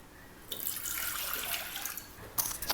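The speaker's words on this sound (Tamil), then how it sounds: "தேவையான அளவு தண்ணி சேர்த்துக்கலாம்." Water pours steadily into a pot of roasted, washed moong dal being cooked for payasam, a close, splashing stream that runs for about two seconds with a brief gurgle at the end.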